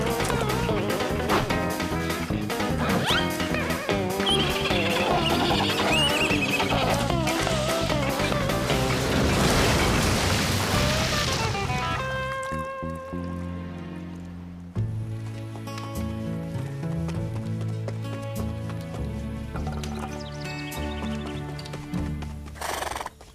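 Cartoon horses neigh and whinny loudly over fast galloping hooves and splashing in a Lucky Luke scene, followed by a quieter stretch of music and effects.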